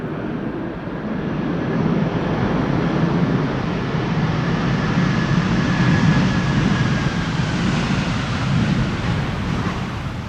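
A Delta Airlines jet landing on runway 18R at Amsterdam Schiphol in windy weather, briefly using its thrust reversers: a broad, sustained roar that swells and holds for about ten seconds, heard from a distance with some wind noise.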